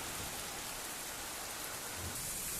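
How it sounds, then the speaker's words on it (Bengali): Heavy rain pouring onto a pond during a storm, a dense, steady hiss of drops drumming on water, loud and close throughout, with no voices. "কি পরিমাণ বৃষ্টি হচ্ছে দেখো, পুকুরে দেখলে বোঝা যাচ্ছে কিভাবে বৃষ্টিটা হচ্ছে।"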